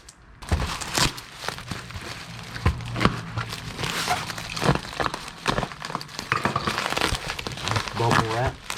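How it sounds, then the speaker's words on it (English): Bubble wrap crinkles and tears close up as packing around a 1964 Buick Skylark glove box is pulled away, in repeated rustling bursts while someone talks over it. "Bubble wrap,"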